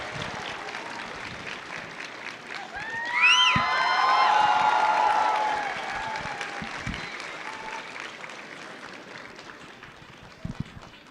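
Applause and cheering from a cosplay contest crowd at the Indiana Comic Convention, with whoops and shrill cheers that swell to a loud peak midway before settling back into steady clapping.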